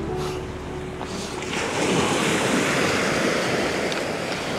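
Sea waves wash over coastal rocks amid seaweed, a steady broadband roar of surf that swells slightly and holds loud and close, with wind buffeting the microphone and no talk.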